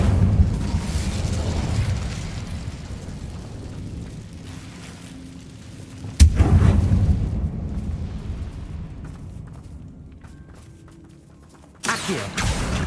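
Fire spells cast in Hogwarts Legacy: rumbling whooshing bursts, with a sharp loud blast partway through followed by a fading roar and another burst near the end.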